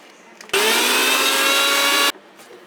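A kitchen mixer grinder blends ginger and green chillies with a little water for masala buttermilk, a loud steady motor whine starting abruptly, running about a second and a half, then cutting off to quiet.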